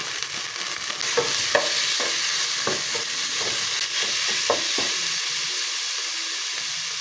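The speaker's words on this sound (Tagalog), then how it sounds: "So, lutuin lang natin yung giniling." Ground pork or beef frying in a pan with garlic and onion, a steady close sizzle and hiss with occasional scraping stirs of a spoon against the pan, no talk.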